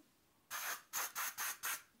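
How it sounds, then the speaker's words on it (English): A fine-mist SPF 50 sunscreen spray can fires four or five short, close hissing bursts in a steady rhythm, each lasting about a quarter second, with quiet gaps between. "But basically, you spray it."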